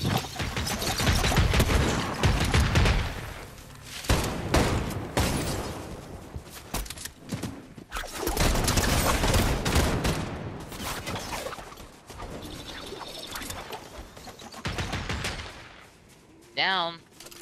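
An automatic turret in Fortnite fires at passing players in long, loud, dense bursts of gunfire broken by short pauses, with clattering game effects throughout.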